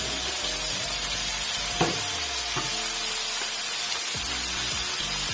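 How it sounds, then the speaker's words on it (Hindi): Chicken pieces fry with softened onions in a pan, a steady close sizzle with a few soft clatters of stirring. "अब इन्हें साथ ही साथ हमने इसमें अपना डाल देना है चिकन।"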